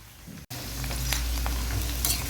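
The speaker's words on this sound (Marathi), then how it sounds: "शिमला मिरचीला आपल्याला फ्राय करायचं आहे" Bell pepper frying in a pan for a dhaba-style mixed vegetable dish, a steady close sizzle with light stirring scrapes, beginning after a brief cut near the start.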